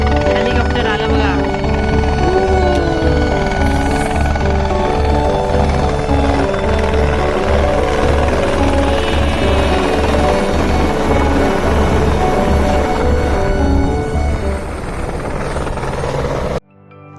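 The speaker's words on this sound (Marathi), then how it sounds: "हेलिकॉप्टर आला बघा." A helicopter flies near Annapurna Base Camp in the Himalayas of Nepal, its loud, pulsing rotor thump and engine whine sustained close by for most of the stretch, then cutting off abruptly.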